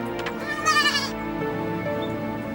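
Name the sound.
goats bleating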